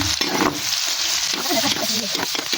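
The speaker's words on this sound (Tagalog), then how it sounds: "lalagay na natin ang sibuyas. Ating sili para may anghang." Onions and chilies sizzling in hot oil in a frying pan while butter shrimp is cooked, a steady loud hiss with occasional stirring scrapes and spatters, close and continuous.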